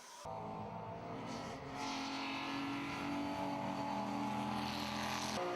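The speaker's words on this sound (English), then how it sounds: "And this, the number 24 Tischner Motorsport car, another BMW M3." BMW M3 race car at the 24H Barcelona endurance race, its engine howling loud and steady at high revs for several seconds, with harmonic tones shifting as it accelerates along the circuit.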